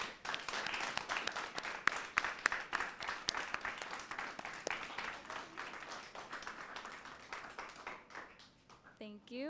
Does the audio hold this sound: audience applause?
yes